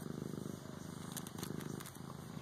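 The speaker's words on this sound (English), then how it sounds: "you get the purr starting." A two-year-old Siamese cat purring up close, a steady low rhythmic rumble that runs without a break throughout, soft and quiet, with no talking.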